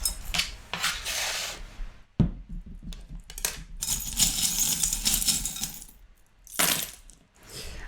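Small metal charms are cast for a divination reading and clatter in several jangling bursts with brief pauses between them. They sound close and bright, and no one speaks.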